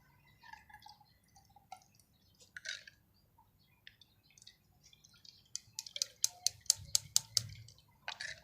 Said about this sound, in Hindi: अब हम इनको छान लेंगे इस तरह से